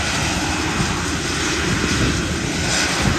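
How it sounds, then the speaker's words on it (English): An RAF aircraft taxiing at Gibraltar Airport gives a steady, loud engine roar with no break, a broad rumbling drone that fills the whole clip with no voices. "I saw an RAF plane taxiing at Gibraltar Airport."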